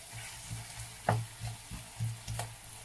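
Cassava and sausages being stirred in a pan for breakfast, with several close scraping strokes of a utensil over a low sizzle, in uneven rhythm.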